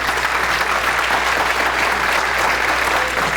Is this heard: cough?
no